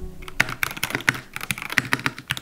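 Rapid typing on a new mechanical computer keyboard costing about $100, with sharp, clicky keystrokes in an irregular, fast rhythm close to the microphone and no talking.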